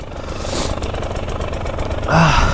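KTM EXC 300 two-stroke dirt bike engine idling and burbling on a steep, near-vertical downhill, a steady close engine drone with a rise in revs near the end.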